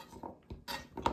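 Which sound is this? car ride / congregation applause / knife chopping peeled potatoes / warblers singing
knife chopping peeled potatoes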